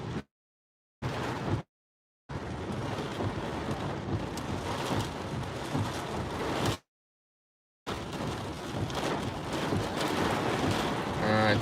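A violent Arizona wind storm in Scottsdale, with 55 to 75 mph gusts, driving rain and flooding. A loud, steady roar of wind and rain fills the air, broken by several abrupt silent gaps.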